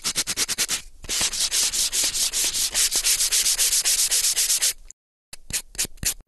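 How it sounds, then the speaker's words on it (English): Medium-grade sandpaper rubs back and forth over second-hand wooden furniture in quick, rhythmic strokes, loud and close, with a brief pause before a few final passes. "medium-grade sandpaper and be careful not to be too vigorous"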